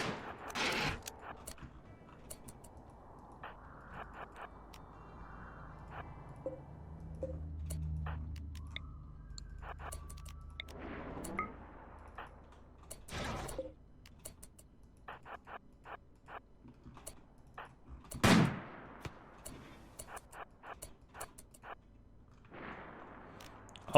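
Sparse gunshots in the colony-building game RimWorld during a fight with a mech: a few sharp, isolated cracks spread far apart, fairly faint, with small ticking interface clicks between them and no talking.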